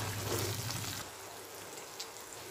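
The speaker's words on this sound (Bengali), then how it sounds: "এই যে দেখেন মশলাটা কতটা ভাজা ভাজা হয়ে আসছে" Spices such as cumin and coriander powder fry in a pan with a splash of water while chicken curry is made, a soft sizzling hiss that is louder at first and then settles into a quiet, steady crackle.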